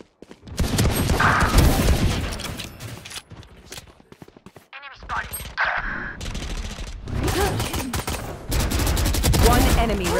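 Rapid bursts of gunfire from the video game Valorant crack loud and close in repeated volleys, broken by short pauses and mixed with game effects.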